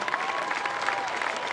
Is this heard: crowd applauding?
yes